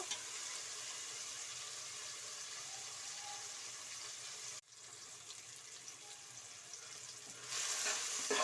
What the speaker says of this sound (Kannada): ಟೊಮೊಟೊ ಎಲ್ಲ ಚೆನ್ನಾಗಿ ಎಣ್ಣೆಯಲ್ಲೇ ಫ್ರೈ ಆಗಬೇಕು